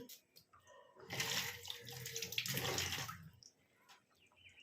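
Katla fish curry (malaikari) bubbling in a pot over high heat, giving a rising rush of boiling, water-like noise for about two seconds before easing back, with no talk over it.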